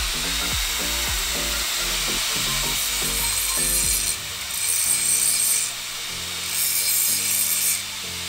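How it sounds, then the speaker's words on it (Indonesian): An angle grinder fitted with a stone disc cleans up cut steel before welding, giving a steady scraping, grinding hiss that shifts in pitch as the contact varies, with no talk. "Di sini saya menggunakan gerinda dengan mata batu seperti ini."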